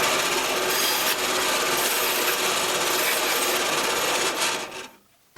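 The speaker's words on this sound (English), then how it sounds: "over here at the bandsaw, I'm going to cut a little V-shaped notch in this wood" A bandsaw rasps steadily and loudly through wood while cutting a small V-shaped notch, running continuously for several seconds before the cut ends and the noise drops away.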